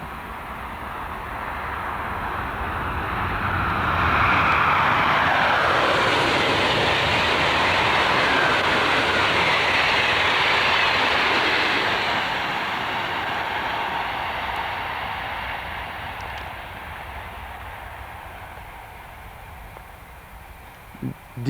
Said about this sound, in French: C'était les TGV